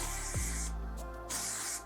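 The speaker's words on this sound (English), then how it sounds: "really spray that in around your face" Two short hissing bursts from an aerosol hairspray can sprayed around the face, close and fairly loud, separated by a brief pause.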